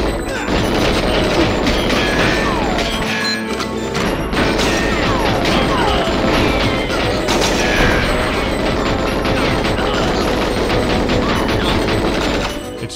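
Dense, continuous GoldenEye 007 combat on Nintendo 64 with sustained automatic gunfire and repeated booming grenade-launcher explosions, loud and busy throughout with layered crashes and thuds, no talking.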